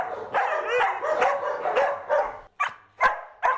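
Several dogs being transported from a Kentucky shelter to an animal shelter bark and yip in quick, close bursts, with whimpers between the sharper barks.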